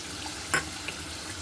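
Ginger garlic paste hits fried onion and tomato in a pan with a soft, continuous sizzle. A single sharp clack stands out briefly over the quiet frying.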